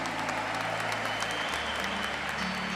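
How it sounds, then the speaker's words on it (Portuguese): Steady applause fills a church gathering right after a resurrection testimony, a dense, continuous wash of clapping with a low hum and faint murmuring beneath it. "Vamos aplaudir."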